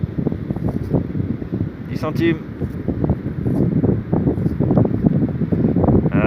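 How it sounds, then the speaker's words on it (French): Wind buffets the microphone on a beach during a metal-detecting outing, a rough, loud rumble running under someone speaking French. "il y a un peu de vent là"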